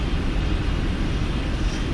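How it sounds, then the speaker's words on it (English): Boeing 747 jet engines running in a flight simulator game: a constant, dense, rumbling roar at an even loudness, with no voices. "Man, listen to them engines."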